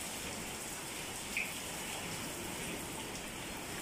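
Rain falling during Typhoon Ulysses, a continuous soft hiss of drops on surfaces, even and low in level, with one brief small knock partway through.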